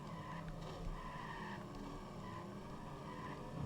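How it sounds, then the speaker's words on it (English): Race cars roar and whine around the Monaco Grand Prix circuit in the Sega Dreamcast game, a continuous engine drone with tire skids and rising revs at moderate loudness. "I hear engines roaring"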